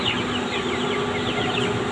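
Farm chickens and a rooster clucking together in a constant, dense flock chorus, with steady background noise and no clear talk.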